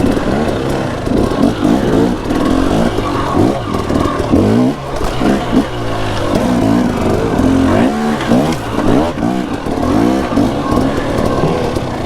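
A 2012 KTM 300 two-stroke dirt bike revs hard and choppy, its buzzing engine rising and falling in quick throttle bursts, loud and close, with faint voices mixed in.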